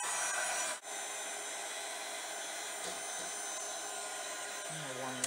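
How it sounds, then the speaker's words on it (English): A heat gun blowing hot air over a resin sculpture bowl, giving a loud, steady whooshing hiss close by that cuts out briefly near the start before resuming. "My heat gun."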